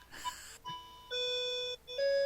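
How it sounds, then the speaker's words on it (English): An old-fashioned clock chimes indoors, playing a short run of clear, sustained bell-like tones at different pitches, soft and alone without talk. "you hear my lovely old-fashioned clock chiming in the background."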